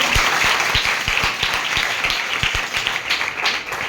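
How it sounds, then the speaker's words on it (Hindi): A class of schoolchildren claps for fellow students during a lesson on the Indian constitution and fundamental rights, a steady burst of hand claps that fills the room for a few seconds with no one talking. "ताली बजाओ इन लोग बच्चों के लिए"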